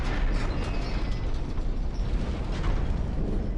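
A grinding, creaking mechanism turns in Dark Souls 2 as a rotating switch is worked near the Smelter Demon area, a low rumbling ratchet-like churn with steady gritty texture and no talk.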